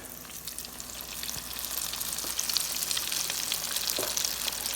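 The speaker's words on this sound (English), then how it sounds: "about to drop these in the fryer" Mushrooms and jalapeno slices fry in a deep fryer, a dense bubbling hiss that swells louder as they cook, with scattered crackles and pops.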